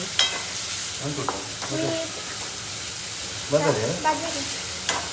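Onion, tomato, salt and chilli fry in a pan with a steady sizzling hiss. A voice talks intermittently over the cooking.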